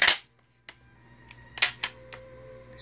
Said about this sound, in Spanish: Disparamos en seco.